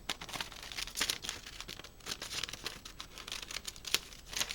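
Scissors snip through applique fabric in quiet, irregular crisp cuts and rustles, close and faint, with no talking.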